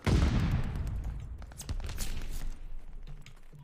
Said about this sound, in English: And the fireworks loud.